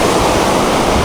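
Continuous broadband roar of ocean surf at Mati, waves washing in steadily and loud without pause, no voices.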